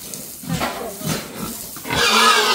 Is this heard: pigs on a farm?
yes